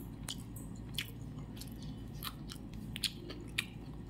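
Someone chews a mouthful of rice with rohu fish curry, ghee and a little chili, up close and quiet, with soft wet chewing and a few crisp bites.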